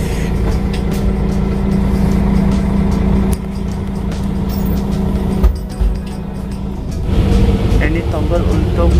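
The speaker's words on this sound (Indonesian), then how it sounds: "Ini bagian dalam bis." Interior of a moving city bus in Germany: a steady engine and road drone with rattles and brief dips in level, fairly loud, with people talking over it.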